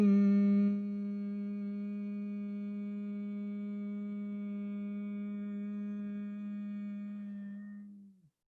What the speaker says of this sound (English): Come to the throat hum.